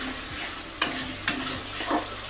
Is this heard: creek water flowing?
no